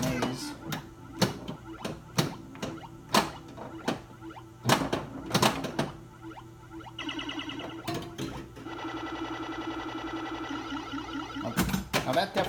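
Squawk and Talk pinball machine sound board tallying Pac-maze moves: a run of sharp clicks and clacks, then a rapid buzzing, ratcheting electronic sound effect near the end, moderately loud and close.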